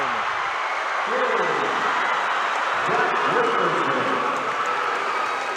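Big crowd roaring and cheering at a high school basketball championship title game, a steady loud wash of noise throughout, with some voices rising from it.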